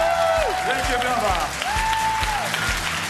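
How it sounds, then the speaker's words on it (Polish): Audience applause at a Polish cabaret evening greeting a guest performer, steady clapping filling the hall while an amplified host's voice rings out over it. "Wielkie brawa!"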